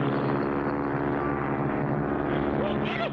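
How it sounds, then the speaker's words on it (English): A cartoon airplane engine drones steadily and loud throughout, a continuous buzzing propeller roar in an animated bush pilot scene. "There's another plane right on top of us."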